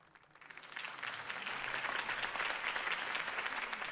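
Crowd applause from the Batman Telltale video game rises quickly after a quiet start and holds as a steady, dense wash of clapping.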